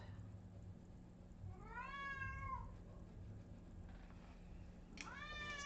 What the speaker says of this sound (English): They just meow a lot.